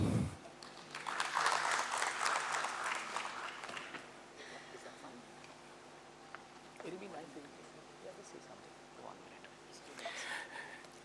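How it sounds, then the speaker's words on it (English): Audience applause at a stock-exchange listing ceremony for an IPO, a dense burst of clapping for the first few seconds that then thins into scattered claps and faint murmuring, with a brief swell again near the end. "Ladies and gentlemen, keep the applause going."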